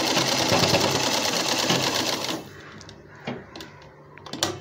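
A sewing machine runs a double line of stitching along a baby cloth diaper (langot), a steady rapid whirring stitch that stops partway, followed by a few soft clicks and handling knocks.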